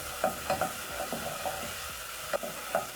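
Cooked tomatoes sizzle softly in a pan while a spoon stirs them, giving a steady frying hiss punctuated by irregular scraping taps, close and fairly loud, with no voices.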